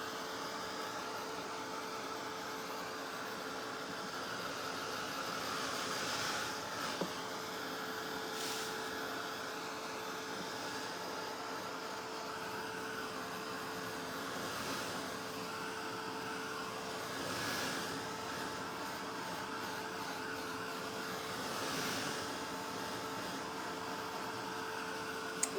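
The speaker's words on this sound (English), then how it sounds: "let's hit this with the dryer just a little bit so we can lift it up" A hair dryer blows continuously and evenly over drying paint at close range, a steady broadband whoosh with faint hum that holds for the whole stretch, with no talking.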